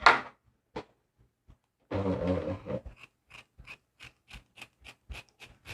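Scissors cutting through burlap: a rough crunching snip followed by a quick, regular run of short, crisp cuts, close and fairly quiet.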